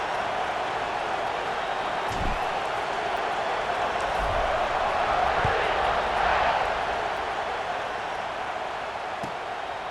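Stadium crowd noise from the College Football 26 video game, a steady broad roar of fans cheering throughout, swelling slightly midway with a few thumps underneath.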